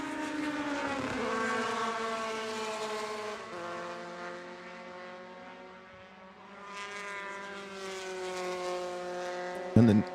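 Race cars in an SCCA Hoosier Super Tour race at Road America whine past with steady engine drones that rise and fall in pitch as they pass, loud and continuous, with commentary over the top.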